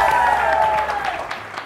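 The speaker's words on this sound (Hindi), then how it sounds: "जब मैं तालियों को बोलूं तो फिर तालियां होनी चाहिए" A studio audience on a TV morning show applauds steadily, the clapping fading slightly toward the end while a sustained tone carries underneath.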